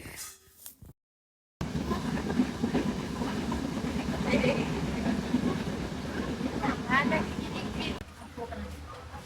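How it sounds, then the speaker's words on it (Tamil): A train rumbles and clatters steadily nearby as it arrives at Mankulam railway station in Sri Lanka, a continuous rolling noise with faint voices and scattered squeals over it. "மாங்குளம் ரயில்வே ஸ்டேஷனுக்கு வந்துட்டுது எங்களோட ரயில்"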